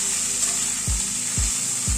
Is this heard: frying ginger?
yes